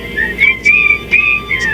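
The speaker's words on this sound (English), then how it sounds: "Now they have a whistling break." Whistling carries a bright, melodic tune in short rising and sliding phrases during the break of a Snow White song, loud and clear, with no voices over it.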